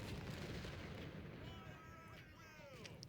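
Cannon and rifle fire from a Civil War battle at Antietam in a strategy video game, a dense, continuous rumble of distant artillery and musketry with scattered sharper reports, fairly faint and steady throughout.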